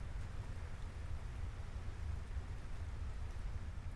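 Steady, faint rainfall in the Final Fantasy XVI video game, a continuous even hiss over a low rumble with no distinct drops or voices.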